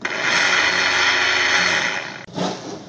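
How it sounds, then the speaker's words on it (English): A car's ABS motor module pump runs with a loud, steady electric whir and buzz for about two seconds, then stops abruptly and restarts briefly, heard up close on a bench. "It turns on and it pumps through the system and builds pressure."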